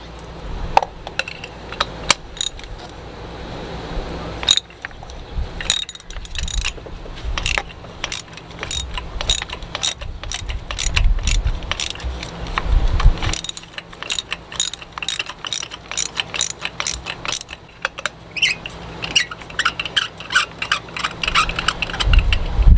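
A ratchet fitted with a 5/8 spark plug socket loosens a spark plug on a 2014 Kia Forte, giving close, crisp bursts of rapid clicking that start and stop repeatedly over a low mechanical background.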